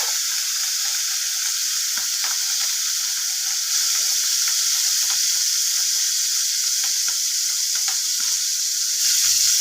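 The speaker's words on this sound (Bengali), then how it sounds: "তেল গরম হয়ে গেছে, কাঁচা লঙ্কাগুলো দিয়ে দিলাম।" Green chilies sizzle steadily in hot oil in a pan, a loud continuous bright hiss with small crackling pops throughout, and no talking.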